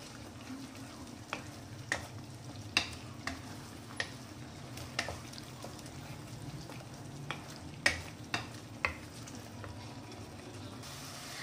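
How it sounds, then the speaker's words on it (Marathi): Ginger garlic paste sautés in a pan for chicken masala with a soft, steady sizzle, punctuated by a dozen or so sharp clicks and scrapes of a spatula at uneven intervals. The sound is fairly quiet and close, with no speech. "आता यामध्ये आलं लसूण पेस्ट टाकूया 1 चम्मच आणि त्याला छान परतून घ्यायचं"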